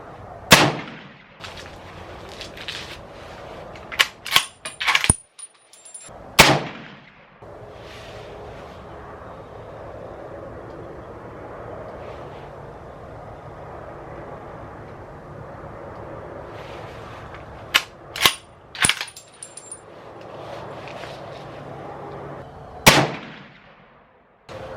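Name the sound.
Ruger Go Wild 300 Win Mag rifle shots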